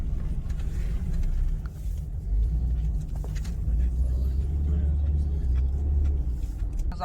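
A car drives through a small town in Crimea, its engine and road rumble steady and close throughout, with faint voices now and then underneath.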